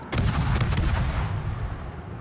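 Naval gunfire from the World of Warships video game: a rapid cluster of heavy booming shots up front, followed by a rumbling low-end tail, with no talking over it.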